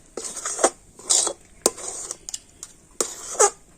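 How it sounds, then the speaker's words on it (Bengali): Chhana sweet mixture with ghee is stirred in a pan over very low heat, a spoon clattering and scraping against the metal in irregular close strokes, with no speech. "একেবারে হালকা জাল দিয়ে তো এইভাবে নাড়তে নাড়তে দেখবেন এইরকম মিশ্রণটা টাইট হয়ে যাবে"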